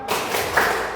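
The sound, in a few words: children doing rhythmic 'tepuk semangat' clapping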